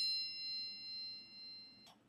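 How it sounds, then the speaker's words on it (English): A phone chimes with a text message notification: a clear, sustained bell-like ding ringing out alone, followed by a short soft knock at the end. "hold that thought, I got a new text message."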